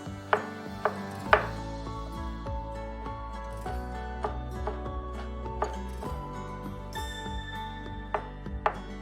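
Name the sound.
finely chopping fresh ginger with a knife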